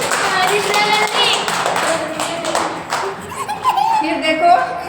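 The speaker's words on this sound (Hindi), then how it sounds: "ताली बजाओ सब बच्चे" Children in a classroom clap their hands in a quick flurry of sharp claps, with a teacher's voice speaking over and around them.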